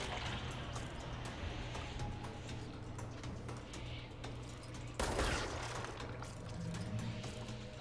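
Dense gunfire in the video game Control, a continuous rattle of shots under game ambience with a sharper, louder burst about two-thirds through.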